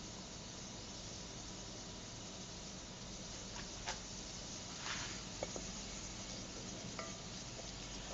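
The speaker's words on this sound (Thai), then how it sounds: "หนิงจะคั่วเครื่องแกงให้สุกเลยนะคะ" Thai curry paste dry-roasts in a pan over a charcoal stove, giving a faint, steady hiss and sizzle broken by a few soft scraping stirs and light clicks, with no talking.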